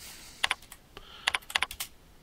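Typing a place name on a computer keyboard: a quick, close series of light key clicks in short irregular bursts over a quiet background.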